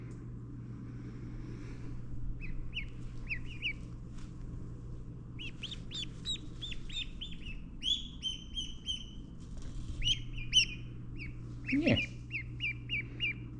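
Baby ducks newly arrived on a farm peep in rapid, high-pitched chirping runs that grow busier and louder. A steady low hum sits under them, with a brief thump and one short spoken word.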